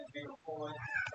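A human voice imitates a cat's meow: a drawn-out, whiny meow-like call that rises and falls over about a second, close and fairly loud.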